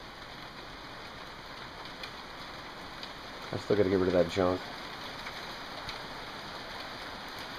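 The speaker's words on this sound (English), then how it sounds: "It's freaking pouring now." Steady rain hisses throughout as a broad, even wash, while someone briefly speaks near the middle.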